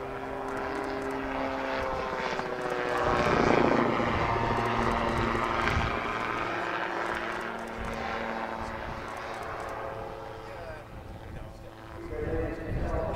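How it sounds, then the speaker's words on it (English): A two-seat gyroplane flies with a 100 hp Rotax 912 pusher engine at an airshow, a steady propeller drone that swells and fades as it moves, with a voice talking over it. "Peter can use that 100 horsepower Rotax 912 engine at the back of the aircraft to propel it forwards"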